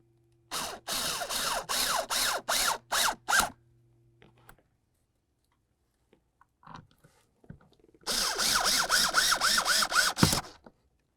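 Blower motor mounting screws being driven with a power driver on a 2004–2006 Scion xB, two loud bursts of rapid ratcheting whirs separated by a quiet pause with faint handling clicks.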